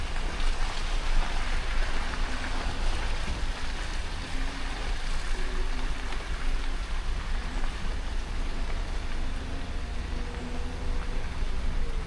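A strong river current rushes in a steady, dense wash of water noise that stays constant and fairly loud throughout, with no talk over it.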